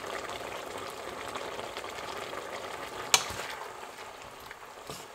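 Malaysian-style shrimp noodles frying in a pan, a steady soft sizzle and crackle with occasional stirring clinks and one sharp utensil knock, close and fairly quiet, no talk.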